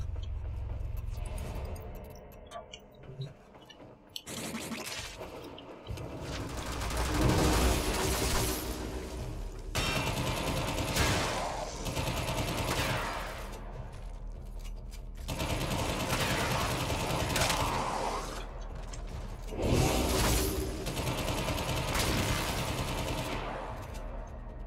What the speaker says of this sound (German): Nicht vergessen, dass das keine automatische Waffe. Man muss jeden Schuss selbst auslösen.